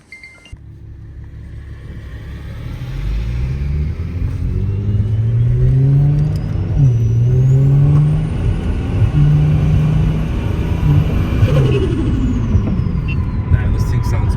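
A single-turbo car engine revs and pulls hard while driving, climbing through gears with a rising whine and a loud throaty drone, then a turbo whistle and release near the end, with someone talking over it.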